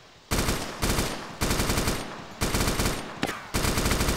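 Automatic gunfire from the video game Arma 2, loud and close, fired in about half a dozen sustained bursts separated by short pauses.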